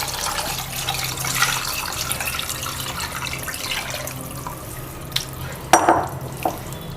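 Tamarind water, about 50 grams of tamarind dissolved in a litre of water, poured into a cooking pot for a tuna fish curry, giving a steady running splash that ends with a few louder knocks and drips near the close.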